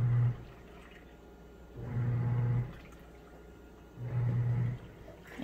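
A Comfee portable washing machine runs after being filled with water, giving a low, moderate churning hum that swells in three regular bursts roughly two seconds apart, with quieter pauses between.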